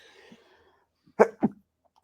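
A person sneezes in two quick bursts, close and sharp against near silence, after a brief faint murmur.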